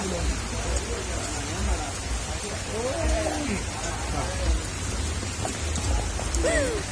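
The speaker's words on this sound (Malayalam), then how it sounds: "മഴ" Rain hisses steadily throughout while a person talks intermittently over it.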